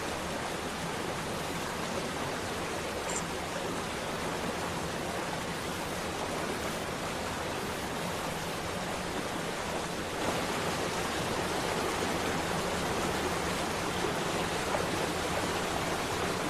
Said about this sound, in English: The water is quite loud, yes.